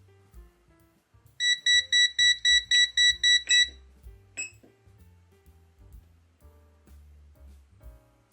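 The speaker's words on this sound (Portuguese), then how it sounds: "passei dos 600 milivolts e ele bipou e segurou" An NJTY T28B tester beeps in a rapid run of about nine loud, evenly spaced high tones after its input passes 600 millivolts, then low soft clicks and handling sounds follow.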